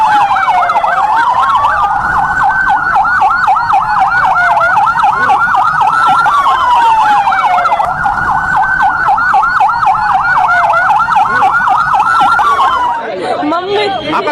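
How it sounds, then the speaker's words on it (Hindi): Ambulance sirens wailing as ambulances leave LNJP hospital in Delhi, loud and near, cycling continuously with overlapping sirens and traffic, chatter in the background. "एलएनजेपी से एम्बुलेंस एक एक कर निकली है।"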